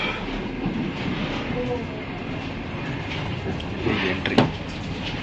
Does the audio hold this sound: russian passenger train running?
yes